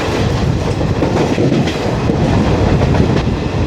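The 12076 Jan Shatabdi Express from Thiruvananthapuram Central to Kozhikode roars along its rails, a loud, dense, continuous rumble with faint clickety-clack heard from on board, steady throughout with no voices.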